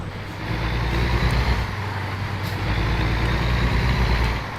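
A truck in American Truck Simulator rumbles steadily in traffic, its heavy low engine drone loud and continuous with no talk over it.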